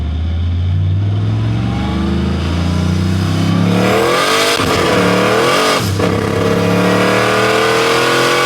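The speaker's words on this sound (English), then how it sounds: "the car got up in boost pretty good, and when I went to third gear, it immediately blew the tires off" A blow-through turbocharged car accelerates hard under boost, its engine note climbing loud and close; a gear change to third follows and the tires break loose, the revs flaring sharply as they spin.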